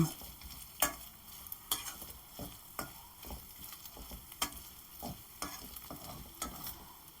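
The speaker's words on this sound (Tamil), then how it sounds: "இஞ்சி பூண்டு பேஸ்ட்டு இதெல்லாம் நல்லா வதங்கிடுச்சு." Ginger-garlic paste sautés in a pan for Pallipalayam chicken, a soft, quiet sizzle broken by regular spatula scrapes and taps every second or so.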